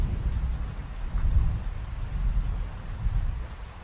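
Steady rain pours over countryside under a low, rolling thunder rumble that swells and fades, continuous and fairly loud with no voices.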